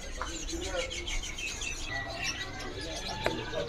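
Kalimantan oriental magpie-robins chirp and tweet in a busy bird market, a steady mix of overlapping calls with a sharp note near the end, with crowd murmur underneath.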